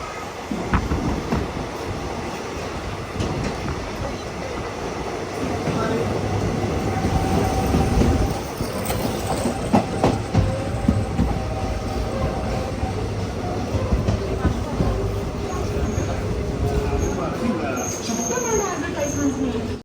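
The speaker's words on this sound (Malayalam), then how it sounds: "ട്രെയിൻ അങ്ങനെ കാസർഗോഡ് ജില്ലയിലേക്ക് കയറിയിരിക്കുകയാണ്" Mangaluru Express train rolling on toward Kasaragod district, a steady close rumble of carriages and wheels running continuously, with a person's voice talking at points over the din.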